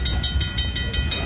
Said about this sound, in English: how long is this train anyway?